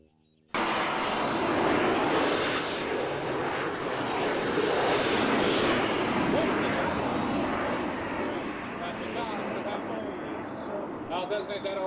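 Aircraft engines drone steadily overhead in a military video game, a dense continuous roar that stays loud throughout with faint voices underneath.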